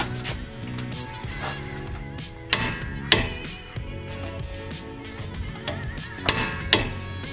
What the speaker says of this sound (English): next I'm going to go ahead and torque this to 60 foot-pounds